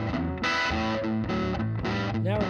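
An electric guitar runs through an overdrive pedal with the distortion turned down, sounding a short run of crunchy, sustained chords and notes, loud and close with no talking.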